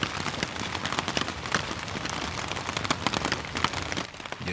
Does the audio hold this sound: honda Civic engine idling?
no